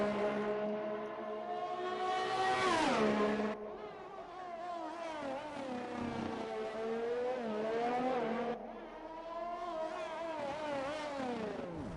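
A race car engine in a racing video game, heard onboard through sector 1 of the Baku circuit, wails loudly and close with rising and falling pitch through repeated upshifts and a braking downshift.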